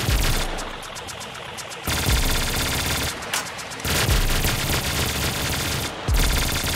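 A gun hip-fired in Call of Duty Black Ops 3 Zombies, loud sustained automatic bursts in three long strings separated by short breaks, close and dense with rapid fire.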